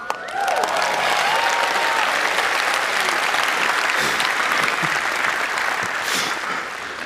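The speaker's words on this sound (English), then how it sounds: "You don't have to applaud every silly joke that I make" An audience at a live talk applauds with loud, dense, steady clapping that fills about seven seconds before tapering off slightly at the end.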